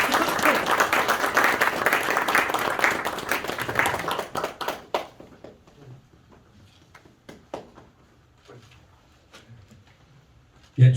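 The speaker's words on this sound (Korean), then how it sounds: "두 분께 박수, 큰 박수 부탁드리겠습니다" Audience at a theatre award ceremony bursts into loud, dense applause that holds for about four seconds, then thins into scattered individual claps and quiet room noise, ending with a sudden loud bump.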